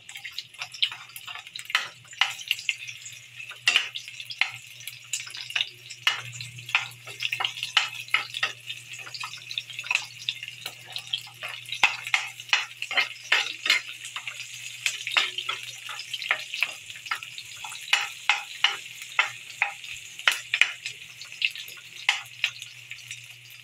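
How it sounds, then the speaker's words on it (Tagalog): Hot cooking oil in a pan crackles and pops in a steady stream of small, sharp spits as coconut heart (ubod) is sautéed, with a faint low hum beneath and no talking. "Kumulo na yung mantika. Lagyan natin to."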